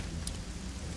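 Storm rain falls in the pirate-themed video game Risen 2, a steady, faint hiss of downpour with one brief splash-like burst near the start.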